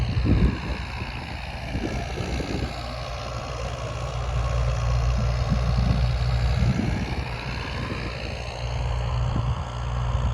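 A New Holland 5500 tractor pulling a 7-foot super seeder through a field, its heavy diesel engine droning steadily and close, with a low throbbing rumble that rises slightly under load midway.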